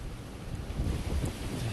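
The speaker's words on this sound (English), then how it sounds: "Now it's pouring, rain, wind," A strong storm in Solana Beach brings gusting wind that buffets the microphone in low rumbling surges, with faint rain beneath and no voices.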